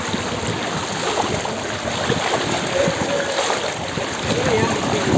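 Continuous rushing and splashing of deep flood rainwater on a road as someone wades against the current, a steady churning wash with a voice talking over it.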